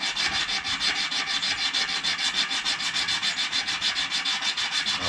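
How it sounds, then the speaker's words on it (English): Steady, rhythmic sanding strokes rasp back and forth up close along the sides of a skateboard, an even, continuous scratchy rubbing with no voices. "I'm just gonna sand the sides again real quick."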